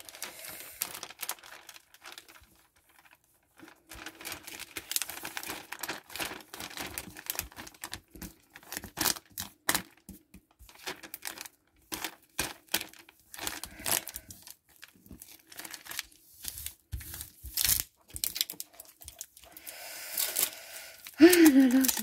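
Glued paper being peeled off a Christmas table decoration, giving irregular crinkling and tearing rustles that come in scattered bursts with short pauses, close and fairly soft. A few quiet words are spoken between them.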